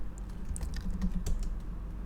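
Keys tapped on a computer keyboard while entering a terminal command, a few quick close clicks ending in a firmer keystroke, with no talking.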